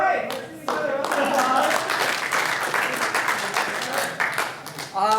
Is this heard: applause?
yes